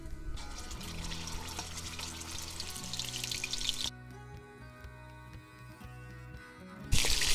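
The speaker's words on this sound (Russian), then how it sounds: "Ну и вот таким образом я их буду порционно обжаривать." Meat cutlets fry in hot oil in a kazan with a steady, close sizzle and crackle. A brief pause interrupts it before it swells loudly again, with soft background music underneath.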